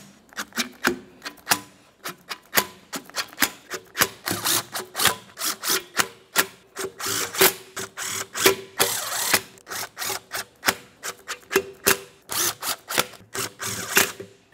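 A ratchet clicks rapidly in repeated bursts as intake manifold bolts are snugged down on a 1994-2002 Dodge Ram 2500, close and crisp, with brief pauses between runs of clicks.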